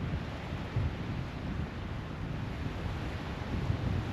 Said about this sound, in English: because it's so windy out here